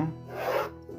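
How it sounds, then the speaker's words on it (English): A pencil draws a single line on an engineering drawing with a brief, close scratchy rasp against the paper that lasts about a second, faint and alone without talk. "I'm going to draw"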